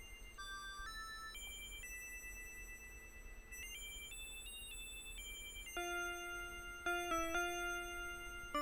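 A soft detuned synthesized bell melody plays alone, its sustained, slightly wavering tones stepping through a sequence of notes, from a Sega Genesis remix of a song.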